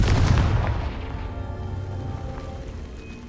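A Confringo spell explosion in Hogwarts Legacy lands as one loud, deep boom right at the start, then its rumbling tail slowly fades over the following seconds.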